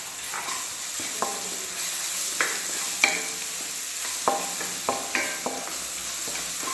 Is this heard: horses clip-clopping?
no